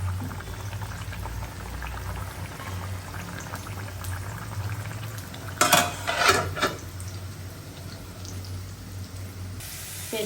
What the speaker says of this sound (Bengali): পেঁয়াজটা একদম বেরেস্তার মতো হয়ে গেছে।